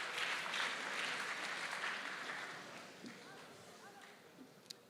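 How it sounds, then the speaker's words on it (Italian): Audience applause for a group of students at an Italian video competition event, a broad wash of clapping that starts loud and gradually thins and fades over several seconds. "Un applauso generale per tutti questi ragazzi che sono qui."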